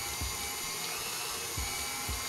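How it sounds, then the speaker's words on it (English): A stand mixer beats lemon cream cheese poundcake batter, a steady high motor whine running without pause, with soft low thumps recurring from the bowl. "So we're gonna let this run for like 4 to 5 minutes until it's nice and creamy"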